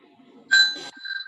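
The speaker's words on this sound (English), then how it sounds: "please make sure that the bell sound is more clear" A timekeeper's bell at an international online competition finale gives a single clear ring that sustains briefly and then fades. A faint, slightly separate second ring follows, with no talk over it.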